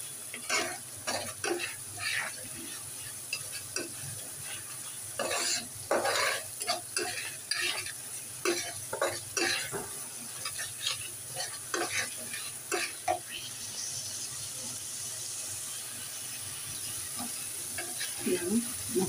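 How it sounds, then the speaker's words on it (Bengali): Spice paste stir-fried in oil in a pan for a thin hilsa and eggplant curry, with a continuous sizzle under repeated close scraping and clinking stirs of a spoon against the pan, no talk. "এবার আমি মশলাটাকে ভালো করে কষিয়ে তারপরে জল দিয়ে দেব"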